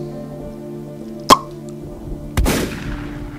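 A headshot in the horror video game Camp Sunshine, with a sharp gunshot crack followed about a second later by a louder blast and a fading tail over a steady game background tone.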